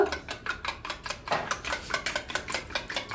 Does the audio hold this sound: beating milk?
yes